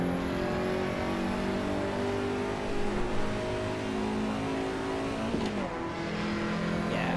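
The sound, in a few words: Lancia Integrale car engine in BeamNG video game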